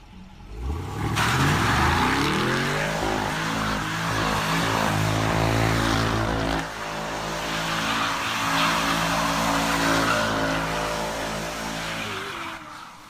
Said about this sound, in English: today we got burnouts, donuts, and I think even some two-step or backfire clips